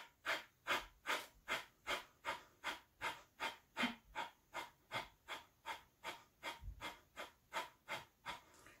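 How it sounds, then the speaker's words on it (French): Rhythmic, forceful breaths in a steady series of about twenty quick bursts during an energizing yoga breathing exercise, close and clear with no talking. "On reprend 2-3 respirations normales."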